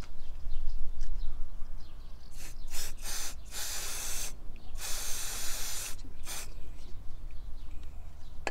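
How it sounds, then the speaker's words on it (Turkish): Cleaning lubricant spray hissing in several bursts onto the throttle body of a Renault Clio with a 1.4 K7J engine, close and loud, with short pauses between sprays over a low background rumble. "buradan içeri sızacak şekilde biraz spreyle temizleme yapacağız"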